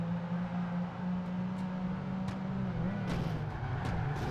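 Racing car engine in Project Gotham Racing 2 drones steadily at a sustained pitch, shifting slightly as the car scrapes along track walls, with a few brief knocks layered over the continuous game engine sound.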